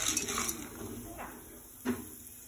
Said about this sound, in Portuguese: Enquanto tá aquecendo, eu vou mexendo aqui na panela.